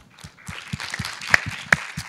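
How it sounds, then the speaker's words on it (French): Scattered clapping from the audience of a round-table panel on future cities, uneven hand claps that start sparse and build slightly, with a couple of sharper individual claps standing out. "Je pense qu'on peut applaudir nos intervenants."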